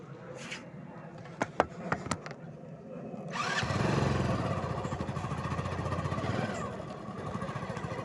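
A motorcycle on a village road gives a few sharp clicks and rattles, then its engine rumbles up and runs steadily and close until the bike comes to park.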